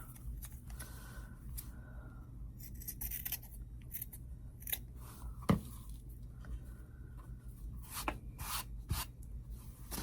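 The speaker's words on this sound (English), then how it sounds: "Trim it off a little more." Scissors trimming fabric for an appliqué kitchen towel, a series of close, crisp snips spaced irregularly, with soft rubbing of cloth between cuts and no talk.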